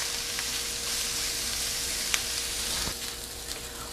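Short grain rice sizzles in a hot pan with onion and oil while being stirred, a steady close frying hiss with a few soft clicks from the spoon.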